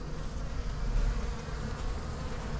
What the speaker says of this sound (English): there was too many bees in that corner